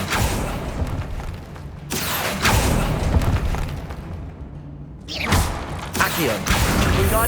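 In Hogwarts Legacy, an Accio spell is cast inside a tomb, giving heavy whooshing, booming magical bursts that come in several surges with short gaps between them.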